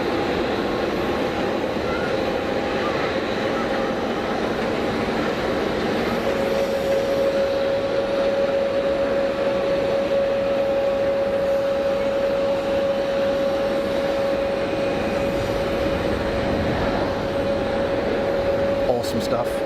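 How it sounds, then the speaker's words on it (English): An easyJet airliner comes in to land at Geneva Airport, a broad, steady jet roar with a sustained whine that holds for most of the stretch, heard from a spectator terrace with no clear talking. "easyJet over the numbers."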